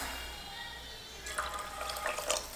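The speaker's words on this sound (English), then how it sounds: "we'll just put enough water to cover the top of the rice and a little bit more" Water is poured into a pot of rice for koshary, a short splashing burst starting partway through after a quiet hum, fairly soft and close.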